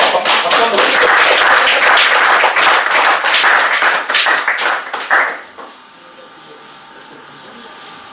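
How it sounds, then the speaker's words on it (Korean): Lecture audience at a leadership talk gives a loud, close round of clapping that runs for about five seconds, then stops abruptly, leaving a faint room hum. "박수 한번 주세요."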